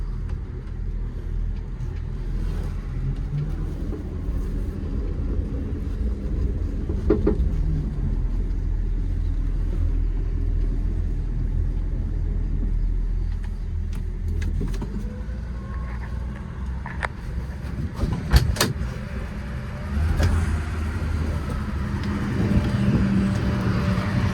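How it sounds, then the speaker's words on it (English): Classic muscle car engine, a 1968 Pontiac GTO 400 four-speed convertible or a 1967 Chevy Nova, runs at a steady low rumble throughout, with a few brief rises and clunks, close and continuous without talk. "Running, driving car."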